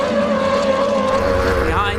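Offshore powerboats racing at speed in Qatar, a loud continuous engine drone with a steady high tone and slight pitch waver, heard under a race commentator's voice.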